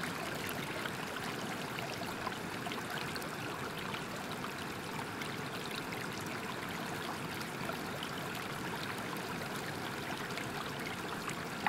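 A waterfall pours in a constant, even rush of flowing water, dense and steady throughout without pauses, heard alone with no voices.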